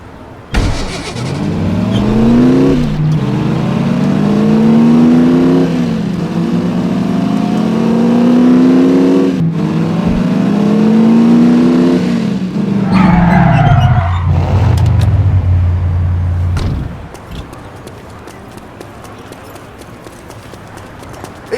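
Car engine in The Saboteur video game, revving through repeated rising gear shifts, loud and close, then dropping to a steady idle before cutting to quieter ambience; no talk.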